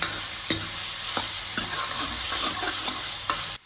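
Tomatoes frying in a pan for a spicy pumpkin curry, a steady loud sizzle with a few sharp scraping strokes of a spoon, close up and alone.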